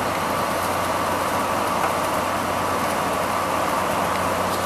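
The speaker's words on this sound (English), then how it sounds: "It's through the wall unit, running in cooling mode." A 2010 Frigidaire 1.5-ton through-the-wall air conditioner with a Welling fan motor and Toshiba compressor runs on max cool, giving a steady, even broadband whoosh of fan air over a low hum, close by and unchanging throughout.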